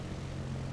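A light propeller aircraft's engine throttled back to idle during a high descent toward Honiton, a steady low drone held evenly through a brief moment.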